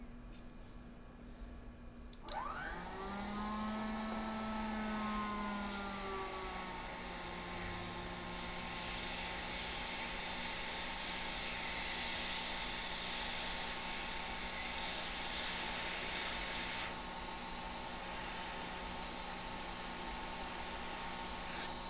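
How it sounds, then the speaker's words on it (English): A hot air rework nozzle blows on an iPhone logic board, starting with a click, then a sweeping whine that settles into a steady, loud rushing hiss with a constant hum beneath. "Dare I put a hot air nozzle on while it's still going?"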